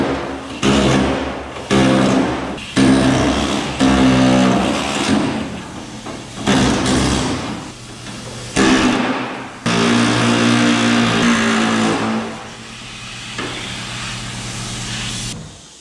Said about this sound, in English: I'm just going to take the air hammer and blast it off of there